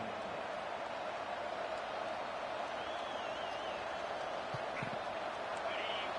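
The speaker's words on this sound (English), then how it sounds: "listen to this crowd noise. This stadium is vibrating" A dense, constant roar of a large stadium crowd at a Florida State football game fills the space, steady and loud with faint whistles and cheers rising above it.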